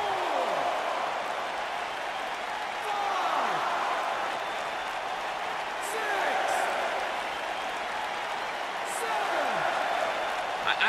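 Arena crowd noise from the WWE 2K19 wrestling game, a steady roar of cheering and applause during a singles match, continuous and fairly loud throughout with a few brief swells.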